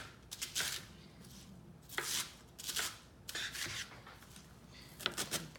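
A knife cuts salad ingredients one-handed on a flat board, giving several short bursts of crisp chopping and slicing strokes with brief pauses between them, close and fairly loud, with no talking.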